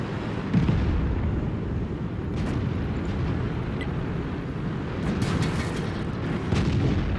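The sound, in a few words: tank cannon shots, from a video game (Indien-Panzer tank)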